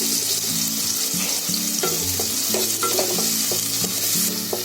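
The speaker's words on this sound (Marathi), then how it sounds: "कांदा आणि कढीपत्ता चांगला फ्राय झालाय" Onion and curry leaves fry in hot oil for a jackfruit vegetable dish, a bright continuous sizzle close by with repeated scraping of a spatula against the pan.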